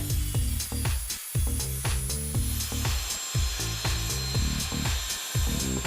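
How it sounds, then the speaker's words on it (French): A cutting tool works through the decorative facing layer of an insulation panel. The rough sawing strokes repeat steadily and close up, with no talk over them. "nous devons découper la partie décorative pour que le joint thermique puisse se faire"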